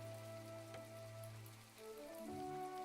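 Steady rain falls in the farming game My Time At Portia, a soft even patter running the whole time beneath sustained tonal background music, with no talking.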